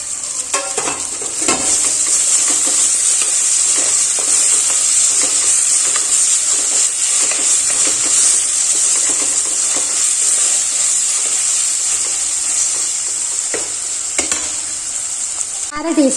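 Chopped tomato frying and being stirred in a pan with onions for a banana-stem curry, giving a loud, steady sizzle throughout with intermittent scraping stir sounds, no talking.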